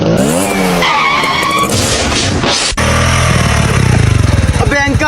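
Vehicle braking hard with loud tire skids and squeals, then a sharp impact with a motorcycle followed by clattering and continued engine and scraping noise, with voices shouting over the commotion.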